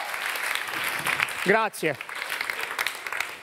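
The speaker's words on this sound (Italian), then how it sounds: "Senti l'applauso del pubblico" Audience applause at a magic show, a dense steady clapping that goes on throughout, with someone briefly speaking over it partway through.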